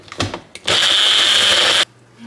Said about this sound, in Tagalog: Ang ating blender is mini lang.